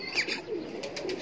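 A golden teddy pigeon, a breeding kabutar, gives soft low cooing notes up close, brief and gentle with a faint higher chirp near the start.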